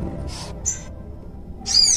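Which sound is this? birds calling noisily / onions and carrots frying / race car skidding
birds calling noisily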